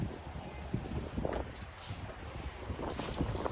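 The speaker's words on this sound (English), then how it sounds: "get out of this wind" Wind blows outdoors beside a 2025 GMC Hummer EV Pickup, a steady rushing gust with buffeting noise on the microphone. It is fairly loud and continuous, with no voices.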